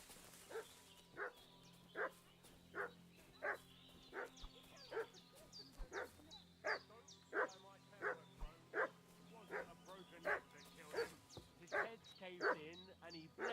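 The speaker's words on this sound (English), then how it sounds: "What's that dog making such a fuss about?" A dog in the game Kingdom Come: Deliverance II barks repeatedly in a steady rhythm, around twenty evenly spaced barks and yips at moderate loudness over a low ambient hum.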